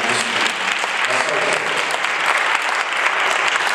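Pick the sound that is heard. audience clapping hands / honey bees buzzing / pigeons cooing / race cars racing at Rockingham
audience clapping hands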